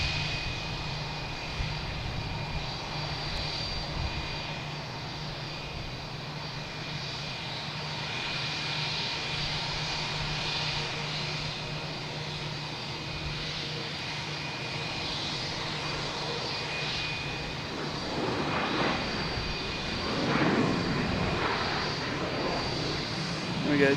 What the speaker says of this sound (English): we have United Airlines coming in from Houston. 737 MAX 9,